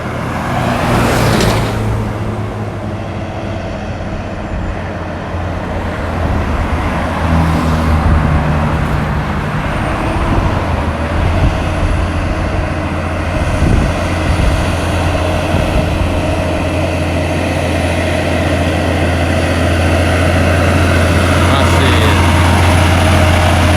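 A loaded Freightliner pan truck carrying molasses labors up Winston Jones Hill, its deep engine drone steady and loud, with a tonal rumble that builds toward the end and a voice speaking briefly.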